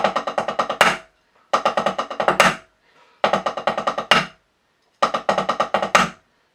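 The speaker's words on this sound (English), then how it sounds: "first one, number 10, 9-stroke roll." Four repetitions of a quick nine-stroke drum roll of rapid even strokes, each finishing with a louder accented hit, separated by short silences.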